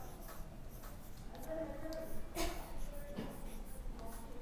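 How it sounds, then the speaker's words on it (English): Chalk writes on a classroom blackboard with a few short scratchy strokes, close and moderately loud, with faint room noise and murmuring in the background. "Okay, I write it on the blackboard."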